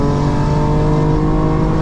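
A 2024 BMW M4 Competition xDrive with its exhaust burbles switched off, giving a steady, loud engine drone with strong low harmonics and no pops or crackles, heard close from inside the car.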